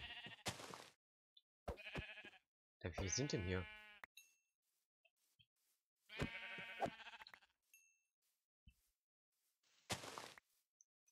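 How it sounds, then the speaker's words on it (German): Minecraft sheep from the Dalek mod bleat in scattered bursts across a quiet stretch, several calls spaced apart and close by, with a brief spoken question in between. "Noch ein Schaf."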